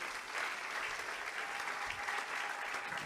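A church congregation bursts into steady, sustained applause, a dense wash of many hands clapping together from start to finish with no voices standing out.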